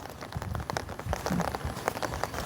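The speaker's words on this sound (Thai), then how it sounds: "มาดูฝนเลยเอ้ยเนาะ" Rain falls outdoors as irregular spattering drops and patters on surfaces, moderately close and fairly faint, with no voices.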